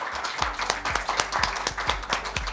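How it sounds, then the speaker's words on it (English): Audience at a symposium on low fertility and ageing applauds its presenters and discussants at the close of a session, a steady patter of many hands with sharper individual claps standing out, moderately loud, no talk. "can we give a big round of applause to our presenters and discussants"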